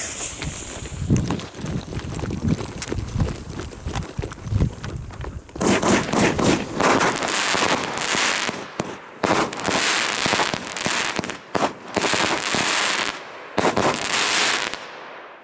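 A rapid string of shots from a 16-shot Vulcan firework cake bursting one after another, loud and close, with crackling explosions that grow denser and more continuous toward the end.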